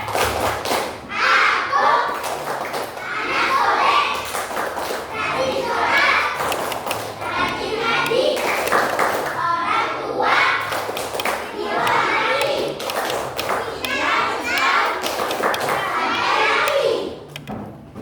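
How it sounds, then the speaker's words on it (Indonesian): Schoolchildren in a classroom chant in chorus while clapping a rhythm, with dense, lively overlapping voices and steady thumping claps running without a break for nearly the whole stretch. "Tepuk anak soleh."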